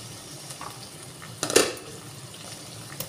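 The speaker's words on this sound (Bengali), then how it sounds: "2 চামচ জল দিয়ে আবারও ঢাকা দিয়ে ভালো করে মশলাটা সেদ্ধ করে নেব।" Tomato masala simmers in a covered pot with a soft bubbling hiss, broken once by a brief clatter of metal on metal, then a quiet tap near the end.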